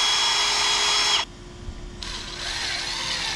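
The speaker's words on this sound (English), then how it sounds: "I'm just gonna pre-drill a hole in there" A power drill whines steadily at high speed while pre-drilling a hole in wood, stops briefly, then starts again at a slightly lower pitch, close up with no talking.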